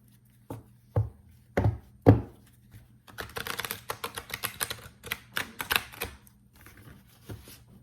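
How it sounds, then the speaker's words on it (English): A few sharp card snaps, then a rapid riffling burst as a tarot deck is shuffled, followed by more scattered flicks and taps. "One more shuffle."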